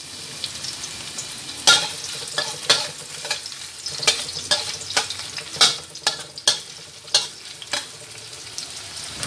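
Onion sautés in hot oil with a soft, steady sizzle while a spatula scrapes the pan in sharp, irregular strokes, close by.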